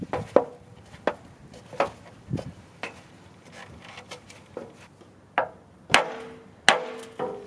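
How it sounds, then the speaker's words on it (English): A hammer strikes wood in a series of sharp, irregular knocks, about a dozen blows spaced under a second apart, close by with no talking. "So now we're just using a piece of wood and a hammer,"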